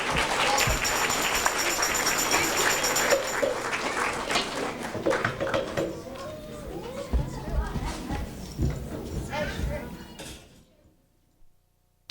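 A talent-show audience applauds a vocal and bass clarinet duo in 1995: a dense burst of clapping dominates the opening seconds, then thins into murmuring voices and chatter before fading to near silence.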